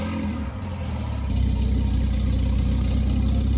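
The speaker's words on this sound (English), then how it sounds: "This has to be one of the most aggressive idles." The W Motors Veneer Super Sport idles in the Driving Empire game with a deep, steady, rumbling drone that steps up louder and fuller partway through and then holds an aggressive, even hum.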